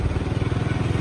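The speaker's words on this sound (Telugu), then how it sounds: "సో మనమైతే బైక్ పార్క్ చేయడానికి వెళ్తున్నాం." A motorcycle being ridden slowly toward a parking area, its engine thumping in a steady, rapid pulse close to the microphone, with no talk over it.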